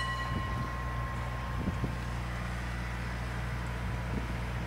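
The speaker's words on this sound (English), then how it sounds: "we have another tram coming into the tram depot" Cable tram pulling into the Portland tram depot in Victoria, a low steady rumble of the approaching car with faint creaks, heard from nearby over constant outdoor wind noise.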